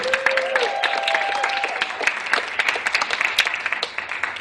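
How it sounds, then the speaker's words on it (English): An audience at a Texas history quiz show gives its competitors a lively round of applause, dense clapping throughout, with a brief tonal sound near the start. "I want a big round of applause for all of our amazing competitors"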